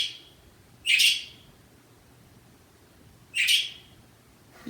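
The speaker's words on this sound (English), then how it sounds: "Freaking bird." Two sharp bird chirps sound about two and a half seconds apart, bright and fairly close against a quiet indoor background, with a third call just starting at the end.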